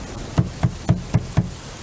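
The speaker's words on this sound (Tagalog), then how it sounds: "May tumutok-tok ba?" Five quick, evenly spaced knocks on a door, close and clear against a quiet background.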